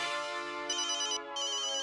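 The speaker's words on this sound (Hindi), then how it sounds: "देखो देखो शायद सोनू का ही फोन हो।" A phone ringtone plays loudly and steadily, an electronic melody with a brief pause partway through.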